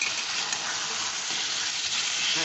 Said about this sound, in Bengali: এটাকে খুব ভালো করে কষে নিতে হবে একবারে